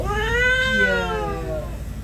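An aggressive cat at the veterinary clinic lets out a long, loud, drawn-out yowling meow that rises and then sinks, close by, over a low steady background hum.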